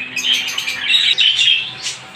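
Pet budgerigars and other caged birds at a bird sale chirp and squawk in a busy overlapping chatter, loud and close, with a brief flutter of wings among the calls.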